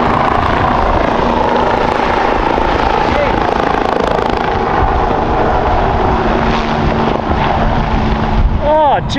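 A helicopter flies overhead at a mountain bike World Cup track in Andorra, its rotor roar loud and continuous throughout, with wind and dust noise.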